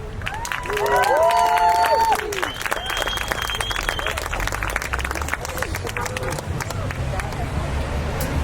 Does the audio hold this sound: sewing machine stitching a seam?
no